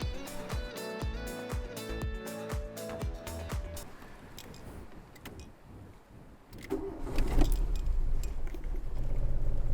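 A car that would not start is jump-started with a Noco GB40 jump starter; keys jangle and click near the start, then the engine cranks and catches, running loudly and steadily by the end.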